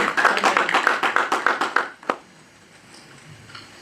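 A church congregation claps together in a quick, even rhythm of about a dozen sharp hand claps in praise of the Lord, then stops with one final clap, leaving quiet room tone.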